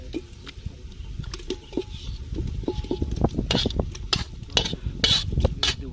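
Mutton goes into masala in a pot and is stirred during outdoor village cooking, with repeated scraping and clinking of a spoon against the metal pot over a soft sizzle, moderately close.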